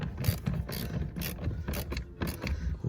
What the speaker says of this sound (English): Get them tightened in there